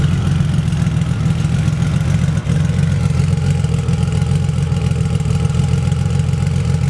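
A 1999 Honda Valkyrie trike's engine runs at a steady idle close by, a loud, even, throbbing rumble that holds for several seconds with only a brief dip.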